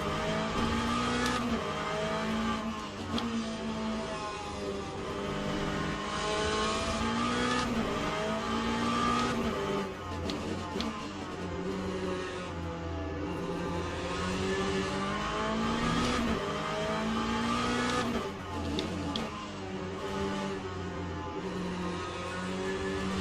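A Ferrari race car in the Le Mans Ultimate game on the Fuji circuit roars steadily at full throttle down the straight, loud and continuous, with rising engine tones and short shifts, and no voices.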